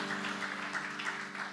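A church congregation applauds during a thanksgiving service: a brief, steady patter of clapping hands, moderately distant and even throughout.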